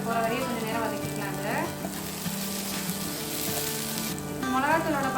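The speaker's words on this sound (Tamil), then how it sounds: "இந்த மிளகாத்தூளோட பச்சை வாசனை போகிற வரையும் கொஞ்சம் நேரம் வதக்கிக்கலாம்" Chili powder and salt sautéing in a pan, a steady close sizzle with occasional stirring scrapes and faint background music.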